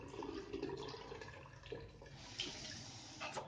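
Running water pours and splashes steadily while a reverse-osmosis water purifier membrane is rinsed under it, a continuous close wash with small shifts in the flow. No voices.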